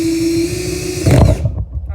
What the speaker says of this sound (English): make sure you have your drill forward